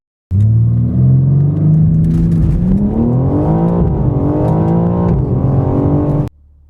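A BMW M4 Competition xDrive G82 accelerates hard, its engine roaring loud and close. The pitch climbs through gear changes over about six seconds, then the sound cuts off abruptly.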